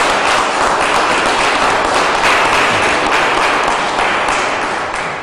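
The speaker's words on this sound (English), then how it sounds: "Please give all of those generous lead donors a round of applause" A ceremony audience applauds steadily for the lead donors during an Arkansas governor's update on replacing the state's statues, a dense, loud wash of clapping that holds for several seconds before tapering slightly at the end.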